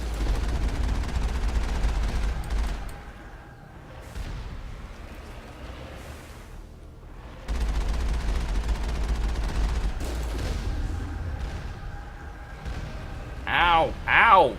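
Gunfire and battle noise in the video game Mass Effect, with dense, rumbling bursts that swell and fade across the clip under a speaking voice.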